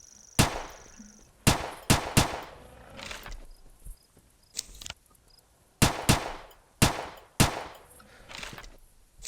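Sharp, loud gunshots from a tactical rifle in the video game Carnivores Fallen Kings, fired singly and in quick pairs across an outdoor scene, each crack followed by a short echoing tail, with quiet ambience between shots.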